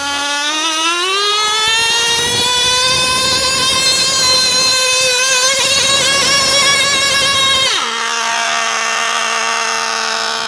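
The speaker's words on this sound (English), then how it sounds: "we're going to be filming some micro mini tractor pulling" A nitro-powered micro mini tractor-pulling engine screams at very high revs, its whine climbing steadily, then dropping sharply in pitch as it settles into a lower sustained drone, loud and close throughout.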